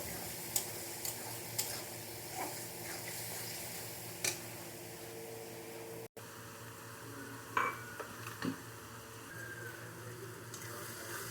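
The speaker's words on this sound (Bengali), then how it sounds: "এই মশলাটা পুরো ঢেলে দিচ্ছি এবার ভালো করে মশলা কষিয়ে নেবো" Spice masala for rajma is stir-fried in a pan, with faint, scattered scraping ticks and a soft low sizzle in an otherwise quiet setting.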